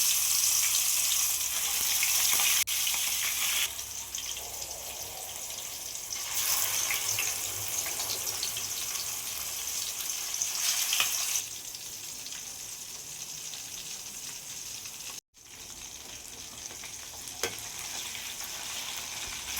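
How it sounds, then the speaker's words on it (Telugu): Fish pieces frying in hot oil in a kadai: a loud, steady hiss and crackle that drops back briefly and swells again, heard up close with no voices. "ఆయిల్ బాగా మరిగాక చేప ముక్కలు వేసుకొని ఫ్రై చేసుకోవాలి."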